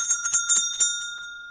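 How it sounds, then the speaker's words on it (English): A small hand bell is shaken rapidly, giving a bright, clear jingling of about half a dozen quick strikes close by, its high ringing tones lingering and fading over a second and a half. "I ring the bell to clear the energy."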